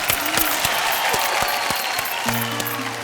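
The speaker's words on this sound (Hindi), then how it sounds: "तालियां प्लीज" Studio audience on a Hindi game show gives a round of applause, a continuous clatter with a few louder nearby claps, while a tonal music sting rises in near the end.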